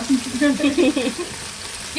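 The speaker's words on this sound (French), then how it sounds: "J'ai l'impression que je fais une friture" Chicken escalope fries in hot oil with a steady, close crackling sizzle that holds through the whole short stretch and swells slightly at the end.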